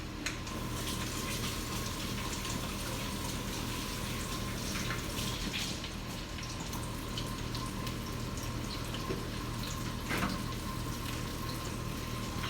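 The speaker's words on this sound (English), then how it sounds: "Let me wash my hands first." Hands are washed under a running kitchen tap, a steady close stream of water pouring and splashing without pause, with a faint low hum underneath.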